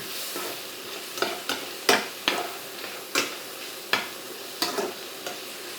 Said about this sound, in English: I'm gonna add the kimchi now. I'm just gonna cook this for about